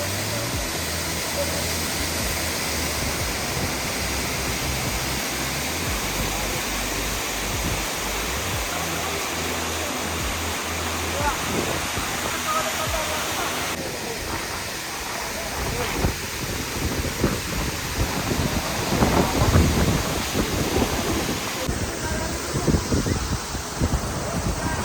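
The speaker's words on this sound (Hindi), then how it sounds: "यह है बहुत ही खूबसूरत झरना और अभी इसकी जो तीव्रता है वो बहुत ही ज़्यादा है" Vasudhara waterfall in the mountains roaring steadily with broadband rushing water and wind buffeting the microphone, growing louder and rougher toward the end.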